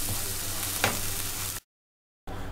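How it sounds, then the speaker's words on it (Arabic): Minced meat with roasted tomato sauce frying in a pan while being stirred, a steady close sizzle with a brief scrape of the spoon, then a short gap of silence before the sizzling resumes. "وهنقلبه كويس مع اللحمة"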